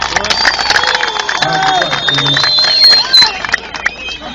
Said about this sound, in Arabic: تصفيق للزنتان